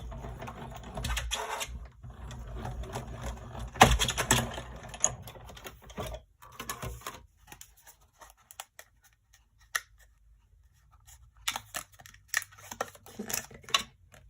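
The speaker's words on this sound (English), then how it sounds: "And then now I need to use the larger one to die cut this." A die cutting machine runs a card piece through for stamping and papercraft, giving a burst of grinding mechanical clatter followed by scattered clicks and handling taps, close and fairly quiet, no voices.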